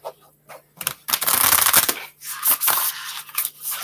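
Tarot cards are shuffled by hand with a book in the way: a dense, close riffling flutter lasting about a second, followed by a few softer, shorter rustles.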